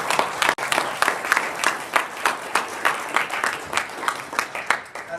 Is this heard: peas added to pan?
no